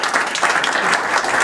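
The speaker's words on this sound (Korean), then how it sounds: "다시 한번 저 박수 한번 드리겠습니다" An audience at a Korean alumni seminar lecture claps loudly and continuously, a close, full burst of applause with no gaps.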